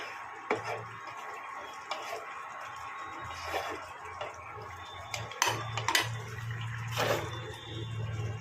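A lid is set over a pan of paneer curry on an induction cooker, giving a few light metallic clinks and taps over a steady low hum and faint sizzle.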